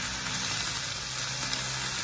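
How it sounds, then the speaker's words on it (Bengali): Leafy greens frying with garlic in a pan give off a loud, dense, continuous sizzle up close, with a faint stirring texture underneath and no voices. "ভালো মতো রসুন এর সঙ্গে ভালো মতো মিক্স করতে হবে, নেড়ে চেড়ে ভাজা ভাজা করতে হবে"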